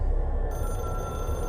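A telephone rings in the video game Control, a steady electronic bell tone that sounds close and alone for the whole moment.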